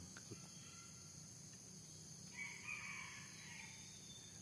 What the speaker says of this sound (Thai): เสียงไก่ต่อ